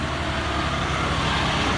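A John Deere 6155R tractor engine running nearby, a steady, loud broadband rumble with a low throbbing undertone, continuous and unbroken with no talking.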